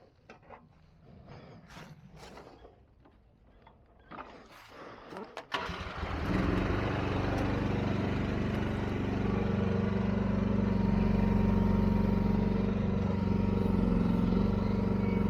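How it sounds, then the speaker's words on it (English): A Chinese mini excavator's engine starts after quiet shuffling and then runs steadily and loudly, with a constant droning rumble close by while digging a pond. "I'm gonna try to speak over the engine noise"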